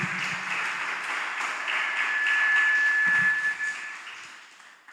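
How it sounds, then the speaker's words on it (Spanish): Church congregation clapping at a Spanish-language conference on the Trinity: a faint, steady wash of applause that swells slightly in the middle and fades toward the end, with brief low vocal murmurs. "Aplauda, hermano. Si es para Cristo,"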